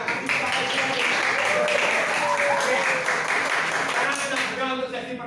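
Applause from a classroom audience of teachers after a group presentation, a dense steady patter of clapping lasting several seconds before tapering, with voices murmuring underneath.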